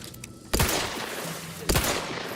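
Two heavy bursts of gunfire in The Outer Worlds 2 video game, each a sharp loud volley with ringing tails, separated by about a second over a low game ambience.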